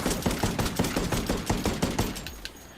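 An SR25 semi-automatic sniper rifle firing in the video game Ghost Recon Wildlands, about a dozen sharp, loud shots in a rapid, fairly even rhythm before the firing stops.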